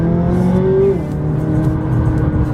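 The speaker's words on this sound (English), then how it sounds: "Letting it shift itself right now." A McLaren 570S engine with a 7-speed dual-clutch gearbox shifts on its own, the rising engine note dropping sharply at the gear change, then settling into a steady whirring drone from inside the car.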